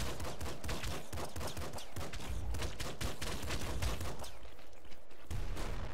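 Rapid, dense gunfire from the Nuclear Throne pop gun, a relentless stream of sharp popping shots with no pauses, loud and continuous throughout.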